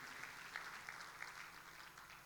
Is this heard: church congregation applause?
yes